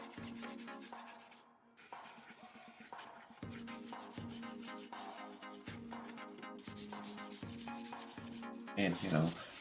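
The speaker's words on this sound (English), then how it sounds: "he's attempting to sand the rust off with the sandpaper here" Sandpaper scrubs rust off an old antique PC case during a restoration, repeated rhythmic rasping strokes close to the microphone, steady and fairly loud with no one talking.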